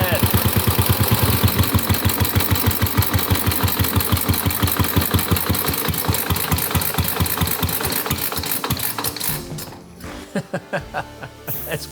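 A 115-year-old motorcycle engine idles steadily after restarting, with a rapid, even chug close to the mic that slows and turns uneven in its last seconds.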